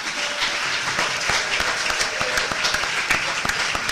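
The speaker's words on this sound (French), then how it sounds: "Est-ce qu'on peut l'applaudir?" Steady audience applause, many hands clapping continuously throughout at a loud, even level.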